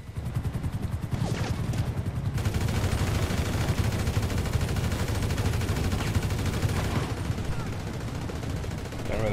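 Rapid automatic gunfire in GTA Online, a dense sustained burst of shots running for several seconds before easing off, with players talking over it.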